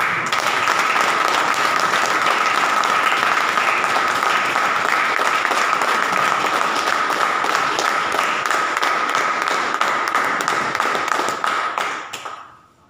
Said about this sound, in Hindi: तो एक बार आपके अपने लिए जोरदार ताली